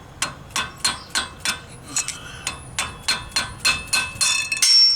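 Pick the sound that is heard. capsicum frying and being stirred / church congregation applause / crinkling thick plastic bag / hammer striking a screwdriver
hammer striking a screwdriver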